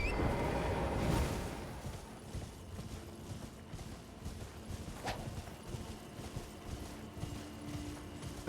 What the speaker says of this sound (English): I think I just tried to drift my horse like I was playing Monster Hunter.